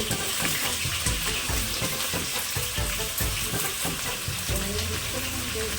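Onion, capsicum and potato tipped into hot oil in a pan for Andhra-style vegetable biryani, producing a loud, steady, watery sizzle that runs throughout, with small clatters of stirring.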